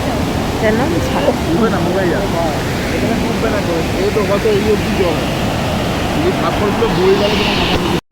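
The Jhalong river rushes in a steady, loud wash in the Dooars hills. A voice talks briefly over the continuous flow.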